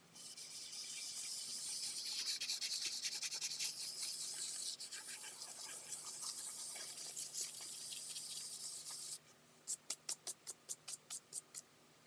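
Sandpaper rubbing over the nitrocellulose finish of a Stratocaster guitar body, a steady close scratchy hiss of back-and-forth strokes, followed by a run of short separate sanding strokes in an even rhythm near the end.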